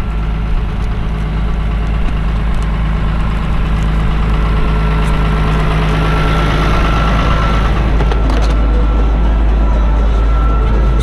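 Tractor engine idling steadily at about 1000 rpm during haylage bale hauling, a loud continuous low drone with constant rhythm and no speech.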